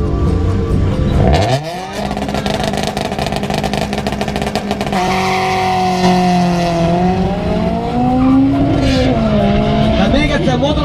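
A heavily tuned turbo diesel Volkswagen Caddy revs and roars close by at an airfield speed festival, pitch climbing and falling as it accelerates hard, with a brief tire squeal partway through.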